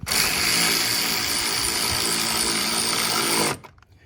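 A loud power tool driving screws into the air filter housing of a 2019 Chevrolet Silverado whirs steadily at close range for a few seconds, then winds down and stops abruptly near the end.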